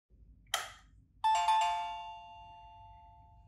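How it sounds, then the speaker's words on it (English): A short buzz-like click, then a bright two-tone electronic chime from a Trenzu smart video doorbell mini that rings out and slowly fades, heard close and alone in a quiet room. "Plug the chime in the adapter"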